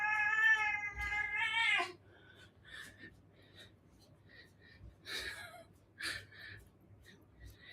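A cat meows close up, a long drawn-out wail followed by several shorter, fainter mews and chirps in a quiet room during a movement session.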